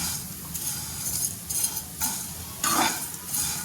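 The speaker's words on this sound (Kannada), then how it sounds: "ಸ್ವಲ್ಪ ಮರೂನ್ ಕಲರ್ ಬರುವ ಹಾಗೆ ಫ್ರೈ ಮಾಡ್ಕೋಬೇಕು ನೋಡ್ರಿ" Vermicelli fries in a pan while being stirred, a steady close sizzle broken by repeated scraping stir strokes, with no talk.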